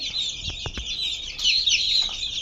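Busy high-pitched cheeping from a group of young chicks, continuous and close, with a few soft thumps underneath.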